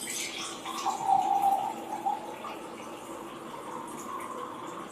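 Water pours steadily into a container that holds oil, with a fuller gurgling burst early on that settles into a softer, continuous trickle; no talking.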